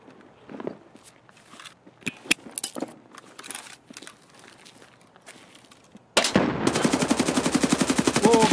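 Gunfire in the shooter game Escape from Tarkov: scattered sharp single shots and footstep-like clatter, then a sudden loud sustained burst of rapid automatic fire, close and relentless.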